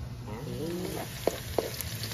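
Garlic and onion sauté in a pan for pancit, giving a steady close sizzle with two sharp clicks of a utensil against the pan, and a brief voice-like tone early on.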